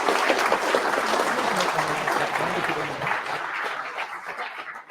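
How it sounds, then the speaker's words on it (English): Audience applause thanking the speakers at an industry talk, a dense, steady clatter of many hands clapping that holds for several seconds before tapering slightly at the end. "asking you an applause to thank all our speakers"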